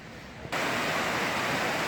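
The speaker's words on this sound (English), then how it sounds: "we've got a beautiful waterfall here" A waterfall in a mossy, lichen-covered spot sends out a steady, dense rushing roar. It cuts in abruptly after a quiet half second, then stays loud and close without a break.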